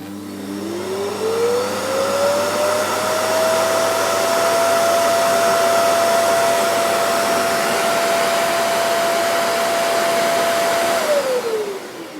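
Hoover Dustmanager cylinder vacuum cleaner on its highest setting, a loud close motor that rises in pitch as it spins up, holds a steady drone for about ten seconds, then winds down.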